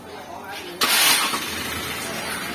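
Engine of a 2021 Toyota Commuter van catching after a remote push-button start, a sudden loud broadband surge that settles into a steady close idle.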